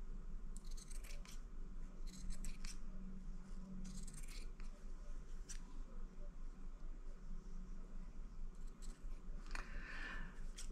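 Scissors snip slits into the corners of a fabric Thanksgiving placemat up to the stitching, a series of soft, close crisp cuts in short bursts over a quiet room.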